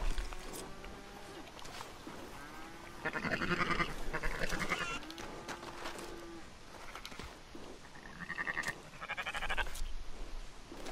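Sheep and goats bleat repeatedly from ranch pens in Red Dead Online, several calls overlapping at moderate distance, the loudest bursts near the middle and end, over a steady outdoor ambience.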